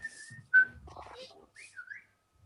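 A person whistles a short bouncy phrase of a tune, with gaps and some faint background noise between notes.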